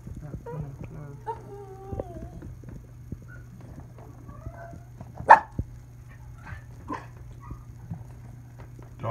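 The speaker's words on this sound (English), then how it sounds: "Dogs are jealous because they're not getting fed." Dogs waiting to be fed at feeding time give scattered short barks and whimpers at moderate distance, separated by quiet gaps, with one louder sharp bark near the middle.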